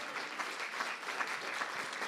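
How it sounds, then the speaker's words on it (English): Steady applause from a conference audience, many hands clapping at an even, dense level with no voices above it for the full two seconds. "give yourself a round of applause for that"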